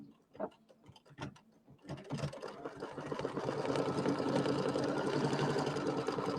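An embroidery machine tacks down pieced flag fabric, starting with a few separate clicks and knocks before building into steady, fast mechanical stitching that whirs and ticks up close, with no voices.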